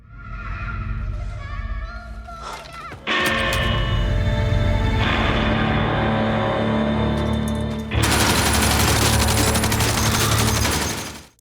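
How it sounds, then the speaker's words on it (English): A dense barrage of gunfire in a Peaky Blinders scene as a man shoots every mine: a quieter opening, then a sustained loud volley from about three seconds on that swells again near the end. "goes back and unloads his fury, shooting every single mine."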